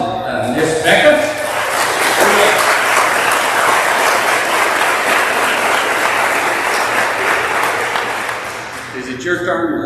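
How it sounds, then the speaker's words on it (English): Audience at a school athletic awards ceremony applauds the student athletes, a loud, dense wash of clapping that swells, holds steady and then tapers off, with some chuckles and talk mixed in. "Give them a round of applause, and Miss Becker."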